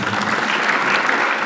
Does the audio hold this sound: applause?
yes